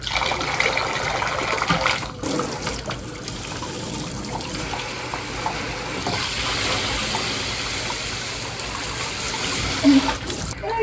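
Water from a shower head rinses while cleaning at home, a steady broadband hiss and splash running the whole time, fairly close, with scattered clatter and a voice now and then over it.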